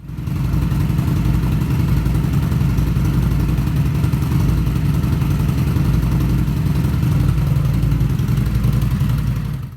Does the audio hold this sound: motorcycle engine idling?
yes